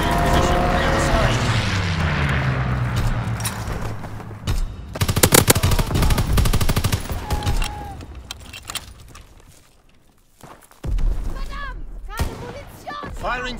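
Call of Duty: WWII multiplayer strafing run, with rapid aircraft machine-gun fire rattling in dense bursts, a swelling engine roar and in-game announcer voice lines over the battle noise.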